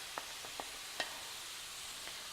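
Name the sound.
zucchini and herbs cooking in pan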